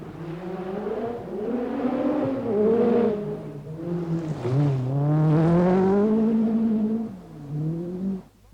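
A Peugeot rally car races flat out along a twisty gravel forest stage at the 1986 Lombard RAC Rally, its engine loud and close as it revs up and down through repeated rising and falling gear changes.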